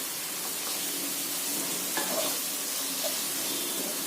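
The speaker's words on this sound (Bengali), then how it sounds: "পেঁয়াজটা ভাজা ভাজা হয়ে গেছে, এবার আমি এতে আদা বাটা দিয়ে দেবো 1 চামচ মতন" Ginger paste and onions fry in a pan, giving a steady, close hiss and crackle that holds level throughout, with a faint scrape near the middle and no talking.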